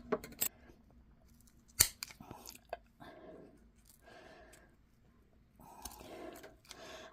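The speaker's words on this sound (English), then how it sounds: "And let me cut off that top dead wood." Pruning shears snip dead wood off an English garden plant being prepared for propagation, giving several sharp, close clicks spread across the moment amid soft handling rustle.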